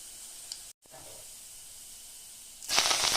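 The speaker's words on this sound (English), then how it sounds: "So I fried up some garlic," Garlic frying in a pan, a soft, steady sizzling hiss that drops out briefly, then returns and swells into a louder, crackling burst near the end, with no talking.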